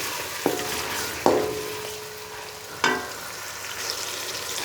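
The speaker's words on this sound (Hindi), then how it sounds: "अब इसमें टमाटर और मिर्च ऐड करते हैं। टमाटर और मिर्चों को भी अच्छी तरह मिक्स कर लेते हैं।" Tomatoes and chilies being mixed into lightly fried garlic and onion for dhaba-style chana dal, a steady close sizzle broken by three sharp utensil clinks against the pan.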